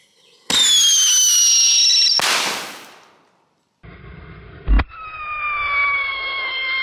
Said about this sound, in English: This is the Mad Hornet Whistling Shell.